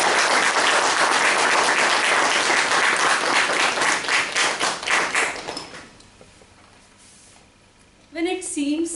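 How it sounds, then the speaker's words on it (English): An audience at an office event claps in a loud burst that gradually thins out and fades, then a voice begins speaking near the end. "So let's have a round of applause."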